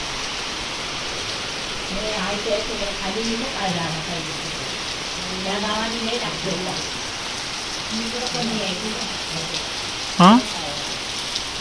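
Heavy monsoon rain falls steadily in a Maharashtra village, a continuous close hiss on roofs and ground, with voices talking intermittently over it and a brief sharp knock near the end.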